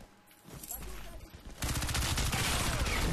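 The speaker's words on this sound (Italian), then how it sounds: "Abbiamo un cannone Reaper." Reaper cannon fire in the video game Crysis 3 erupts as a dense, continuous barrage of rapid rounds, loud and close, following a shorter burst of shots.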